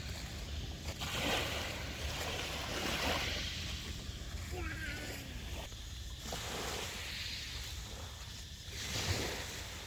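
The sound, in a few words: sea waves at the beach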